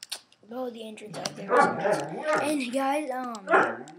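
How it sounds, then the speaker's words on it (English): Dogs bark and yip in the background, short bursts scattered under continuous close male speech, partly masked by the talking. "sorry about the dogs in the background too"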